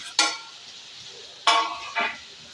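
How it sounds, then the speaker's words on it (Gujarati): Boiled spiny gourd (kankoda) pieces are tipped into a hot pan of spices, each addition setting off a loud sizzling burst. There are three close, bright bursts of frying that fade quickly between them, and no one speaks. "તો આ હું કંકોડા આમાં નાખી દઈશ."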